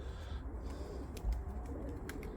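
A pigeon coos softly in the background among quiet ambient noise, low repeated calls with no speech over them.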